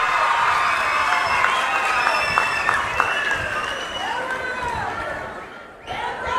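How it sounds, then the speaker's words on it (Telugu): A large crowd at an outdoor public meeting for a free bus scheme launch claps and cheers at a political speech, sustained applause with shouts rising and fading over several seconds. "గట్టిగా చప్పట్లు కొట్టి హర్షాన్ని వ్యక్తం చేయండి"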